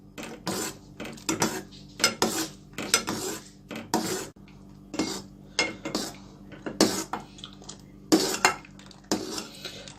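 A utensil stirs a thickening strawberry ice cream milk mixture in a metal pan, making repeated close scraping strokes and clinks in an irregular rhythm against the pan for about ten seconds.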